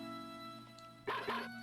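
Boney the dog barks twice in quick succession in Mother 3. The short, yippy barks are quiet and sit over a soft, steady musical drone.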